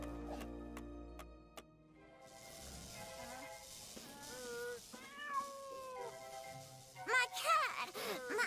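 A cartoon cat meows repeatedly in LEGO The Incredibles video game, several clear close meows and a drawn-out caterwaul over soft game music and ticking, with a louder burst of yowls near the end.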